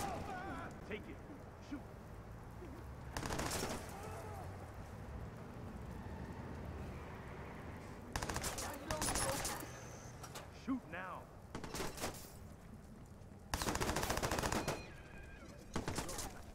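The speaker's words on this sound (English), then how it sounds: "Somebody's shooting!" Gunfire bursts in the PC video game The Dogs Are Watching, several loud broadband volleys around 3, 8–10, 12 and 14 seconds against a steady rain-like ambience, with voices talking between shots.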